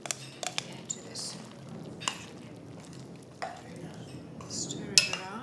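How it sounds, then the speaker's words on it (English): A spoon stirs plain Bulgarian yogurt in a bowl, producing soft wet squishing with a few sharp clinks of utensil against dish, fairly close and quiet, with no talking. "Stir it around."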